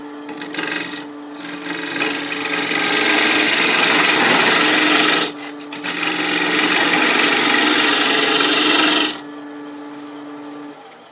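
A lathe tool cuts straight in to reduce a tenon on a wooden bowl, giving a loud rough scraping rasp in two long sustained passes separated by a brief gap, then it falls quiet.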